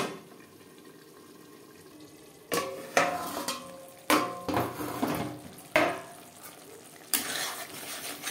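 Spice masala with tomato, fried for a Bengali-style catla fish curry made without garlic, onion or ginger, bubbles quietly in a pan, then bursts of scraping stirs and sizzle arrive in several close, loud strokes.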